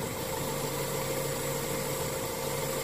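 A car engine idles steadily at close range during an on-board diagnostic check of oxygen sensor fuel trim, a continuous even hum with a low mechanical drone and no voices.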